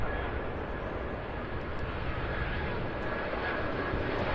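ABX Air cargo plane arriving at Cincinnati CVG airport, a steady, moderately distant jet engine rush with a faint high whine, continuous over the whole stretch.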